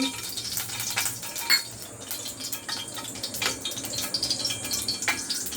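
Oil poured into a hot kadai crackles and sizzles loudly and continuously, with bright spitting pops and small bursts throughout.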